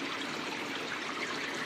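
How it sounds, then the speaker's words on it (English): Water trickling steadily through copper recycling filter trays in a copper and plastic wire separation setup, a continuous close hiss of flowing liquid with no pauses. "the fourth tray is still filtering water"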